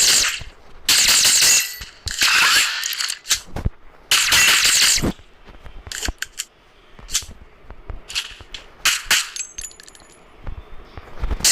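Silenced guns firing in the mobile game Free Fire: a series of sharp, muffled shot bursts and clicks, some in quick clusters and some single, with short silences between them.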